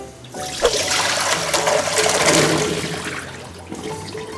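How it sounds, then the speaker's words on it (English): Boiled potatoes are drained, the water pouring out in a loud, continuous rushing gush that swells and then tapers off, close and alone. "we're gonna drain these potatoes and get them into the water"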